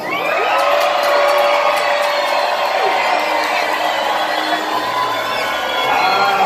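Arena crowd at a Medieval Times dinner tournament show in Buena Park, California, roars with loud continuous cheering, shouting and whooping, a dense wall of voices throughout.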